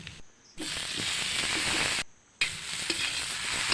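Chopped onion and green chillies fry in hot oil in a pan for a fish-head fry, a loud continuous sizzle broken twice by short silent gaps, with no talk.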